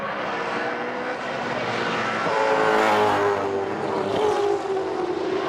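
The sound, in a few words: V8 Supercars race cars speeding down the front straight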